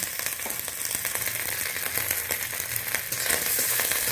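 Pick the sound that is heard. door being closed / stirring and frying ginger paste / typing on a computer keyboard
stirring and frying ginger paste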